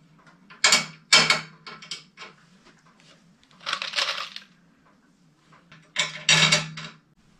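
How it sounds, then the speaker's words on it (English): Metal nuts and bolts being picked up and jingled together in three separate bursts of clinking, close and fairly loud, with a low hum underneath, during work on a propane conversion kit for a Honda EB 6500 generator. "Just get out my own nuts and bolts here."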